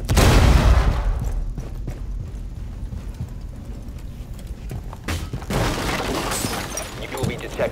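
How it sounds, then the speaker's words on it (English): Grenade blast in Rainbow Six Siege on the Yacht map, a loud close boom that erupts at the start and then breaks into scattered debris clatter and game clicks before a second rush of noise. "A grenade in."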